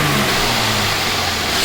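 A Mercedes-Benz E350 with the M276 engine, just fitted with new ignition coils and spark plugs, is given gas in a garage, producing a steady, fairly loud engine drone with no talk over it.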